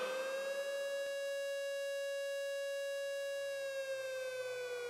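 A civil defense air raid siren wails in one long, steady tone, holding its pitch for several seconds before drifting slightly, loud and alone without any voices.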